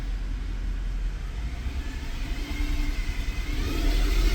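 A Mercedes E63 AMG engine with a known fault is held at a steady idle-to-low rev around 1,500 RPM, giving a continuous deep rumble that swells slightly toward the end, close and loud.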